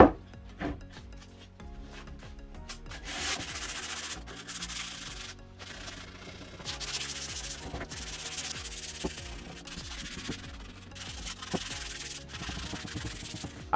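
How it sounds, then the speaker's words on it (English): Steady sanding on a wooden coffee table top during a budget restoration, the gritty rubbing strokes repeating continuously and close up for the whole stretch, with no talking. "So I sanded the top back down"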